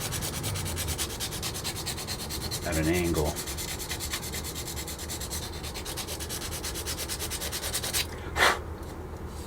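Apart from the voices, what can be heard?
sanding and filing a plastic model part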